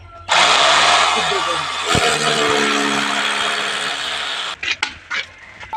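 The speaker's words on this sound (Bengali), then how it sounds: "এবার আমরা কি করব ড্রিল মেশিন দিয়ে" A power drill whines loudly and steadily for about four seconds, drilling holes, then stops, followed by a few short clattering knocks.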